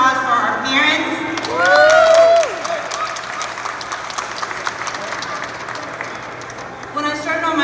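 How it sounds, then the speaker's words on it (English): Crowd applause for parents at a Pennsylvania school choice rally, a broad outdoor patter of clapping with shouts and whoops rising at first, then settling into steady moderate applause. "can we please have a round of applause for our parents?"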